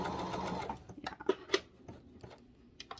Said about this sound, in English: My machine just totally didn't do any stitches.